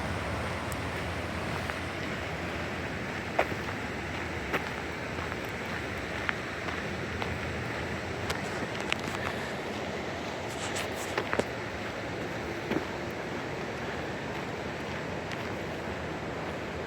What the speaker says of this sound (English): With the white water going on there.